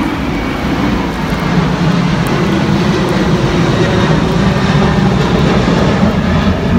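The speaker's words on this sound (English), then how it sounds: "what's that, an airplane?" An airplane passes overhead at a family reunion cookout, a loud, steady broadband roar of engine noise that holds throughout without a clear rise or fade.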